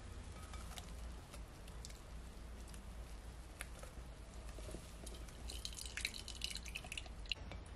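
Beetroot juice pours through a strainer into a container, making a steady close dripping and pattering of liquid throughout, with a busier splashy patch near the end.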